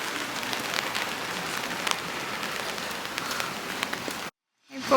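Steady rain patters on surfaces in a Japanese onsen town, an even hiss of drops with a few sharper taps, cutting off abruptly near the end.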